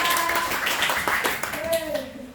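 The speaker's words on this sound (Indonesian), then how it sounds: "tepuk tangan untuk kelompok 3" Schoolchildren in a classroom clap for a group after its presentation, a brief burst of close, dense clapping mixed with voices and chatter.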